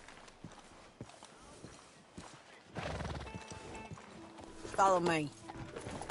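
In the video game Red Dead Redemption 2, horse hooves clip-clop and a horse gives a short, clear whinny, heard under a brief line of spoken dialogue.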